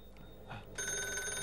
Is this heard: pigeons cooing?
no